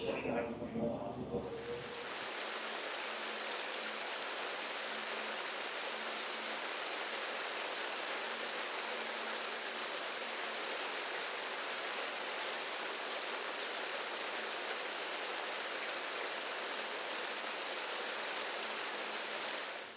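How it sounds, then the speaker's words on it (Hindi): Heavy rain pours down in a dense, steady hiss that stays loud and unbroken, close by, after a brief moment of other noise at the start, on a muddy road in Alaska. "बारिश स्टार्ट हो चुकी है और खूब ज़ोर शोर से हो रही है"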